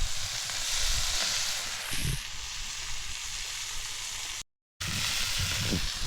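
Fish frying in a pan gives a steady, broad sizzle and hiss that holds throughout, with a brief dropout near the end and faint low thumps underneath.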